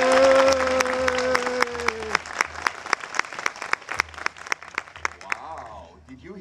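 Audience applause welcoming Stuart onstage, steady clapping from a crowd with a sustained tone at the start and a voice speaking over it, tapering toward the end.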